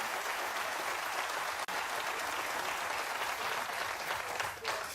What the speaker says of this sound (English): She deserves the applause.